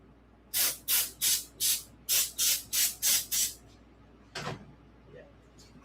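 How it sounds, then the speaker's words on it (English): A can of petroleum-based aerosol spray cleans vintage Schwinn Continental bicycle parts indoors, hissing out in eight quick, evenly spaced bursts followed by a single longer blast after a pause. "we're going to have to give this a quick spray with something petroleum related"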